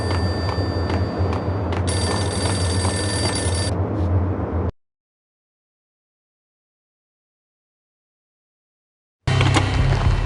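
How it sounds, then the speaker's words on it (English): Payphone ringing in the video game Max Payne: a steady electronic telephone ring over a busy game background, cut to silence midway, then the game sound returns. "The payphone started to ring."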